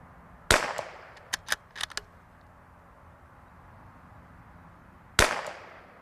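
Rifle shots from a Ruger Precision Rifle at a target range: two loud, sharp cracks about five seconds apart, with a few fainter metallic pings in between.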